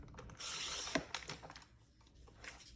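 Creative Memories paper trimmer slicing through a sheet of paper, a close, quiet scraping glide followed by a few small clicks and rattles of the blade carriage.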